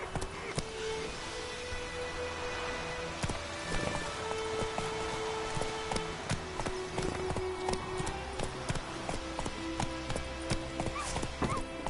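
A horse galloping in The Witcher 3: Wild Hunt, hooves beating a steady clip-clop under a dense wash of rain-like noise, with a snort or whinny and game sounds mixed in.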